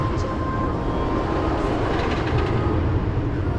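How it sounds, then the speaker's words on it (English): An empty roller coaster train at Busch Gardens Tampa rolls through on a cold November day, a steady loud rumble of wheels on track holding throughout with no talk. "they did send an empty train through"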